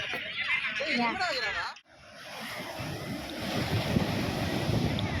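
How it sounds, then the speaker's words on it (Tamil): Rough night sea at Besant Nagar beach, Chennai: a steady, loud broadband wash of surf mixed with gusting wind noise on the microphone fills most of the clip, following a short stretch of talking at the start. "நைட்டில் கடல் கொஞ்சம் கொந்தளிப்பு அதிகமாக தான் இருக்குது"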